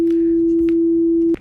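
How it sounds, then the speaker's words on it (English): A steady pure 333 Hz sine tone from a tone generator holds unbroken at one pitch and even loudness for well over a second, then cuts off abruptly, leaving faint background noise. "So what you just heard is 333 hertz"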